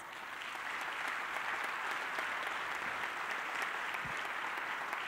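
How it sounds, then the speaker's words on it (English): Sustained applause from a crowd, steady clapping filling the whole stretch at an even, fairly loud level. "give them a huge round of applause"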